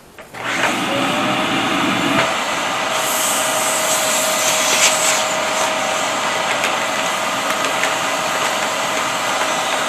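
Steady mechanical whirr of a machine drawing the air out of a Mylar bag of rice for long-term food storage, loud and close, starting abruptly and running continuously with faint shifting tones.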